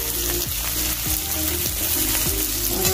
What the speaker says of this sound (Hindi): अब इसको गोल्डन ब्राउन होने तक प्याज को भूनूंगी